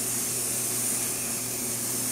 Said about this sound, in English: Now with the spray gun, it works pretty much just like anything else.